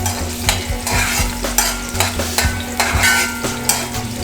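Season rice and mackerel with onion being stirred in a pan, a steady sizzle of frying beneath repeated scraping strokes of the spoon, close and fairly loud, with no talking.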